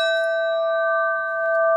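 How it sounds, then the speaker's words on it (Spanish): A village bell is struck once, then rings on as a clear, sustained metallic tone that decays slowly through the clip, heard on its own. "vamos a dar la campana y la invocación"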